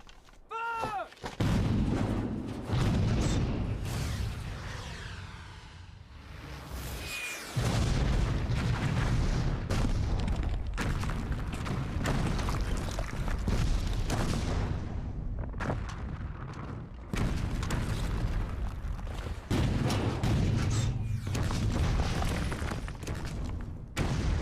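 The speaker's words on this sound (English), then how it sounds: "French cannons are deadly!" Heavy cannon fire booms again and again, loud and rumbling, with blasts following one another almost without pause.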